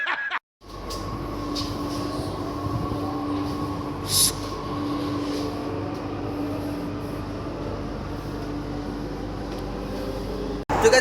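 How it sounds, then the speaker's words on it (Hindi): A Delhi Metro train runs at speed, a steady loud roar with a droning hum heard from inside the car, lasting almost without break and ending abruptly. "और हम जैसे स्टेशन में पहुंचे थे वैसे ही हमको मेट्रो मिल गई थी। और इतना तेज़ इसकी आवाज़ हो रही है"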